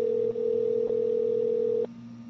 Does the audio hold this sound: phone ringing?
yes